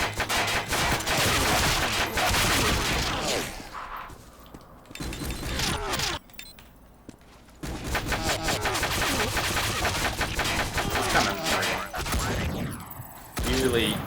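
Steady, dense gunfire from shooting enemies in the VR video game Dark Legion rattles loudly and almost continuously, dropping out for a few seconds midway, with someone talking over it.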